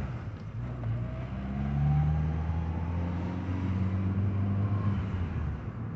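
A Renault Logan, fitted with rear disc brakes taken from a Sandero RS, pulls away and drives off. Its engine hums steadily close by, rising briefly in pitch as it accelerates, with no voices.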